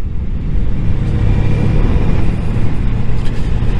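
A Honda CB 600F motorcycle engine runs while riding in a loud, steady rumble mixed with dense wind noise, holding at an even pace.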